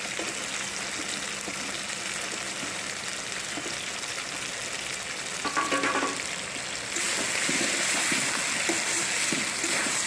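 Potatoes tumble into chicken skin frying in hot spiced oil, giving a steady, close, loud sizzle that swells and brightens partway through as the pieces hit the pan.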